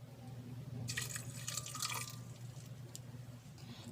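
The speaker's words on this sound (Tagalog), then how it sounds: "lalagyan lang po natin ito ng 1/4 cup na tubig" A quarter cup of water poured over chopped garlic in a blender jar, a short splashing trickle with drips over a steady low hum.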